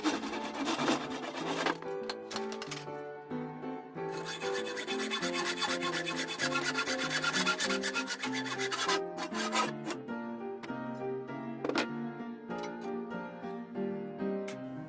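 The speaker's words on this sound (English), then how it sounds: "Then I cut PVC pipe and metal conduit for the barrel assembly." Cutting of PVC pipe and metal conduit for a rifle barrel assembly: a fast, steady rasping and grinding cut running for several seconds, then bursts of clattering strokes toward the end, close and fairly quiet, with no talking.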